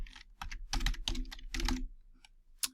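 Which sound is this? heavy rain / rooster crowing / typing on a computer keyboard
typing on a computer keyboard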